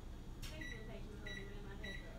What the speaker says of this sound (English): let me put this in the microwave and let it melt.